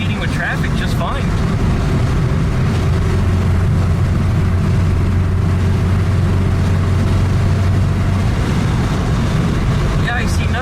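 A Volkswagen Type 3 engine drones steadily from inside the car while it drives in traffic, a loud continuous low hum with road and wind noise throughout.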